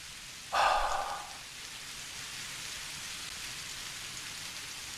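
Steady rain hiss in the Without a Dawn video game, a broad even wash of falling drops that runs throughout, with a brief louder burst near the start that quickly settles back into the constant downpour.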